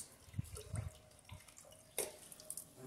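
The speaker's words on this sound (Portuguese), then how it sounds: "Colocar mais água, né? Aqui tem mais 20 litros." Water is poured into a liquid soap mixture being made in a large batch, a quiet, close splashing and trickling with a few drips and a brighter splash near the end.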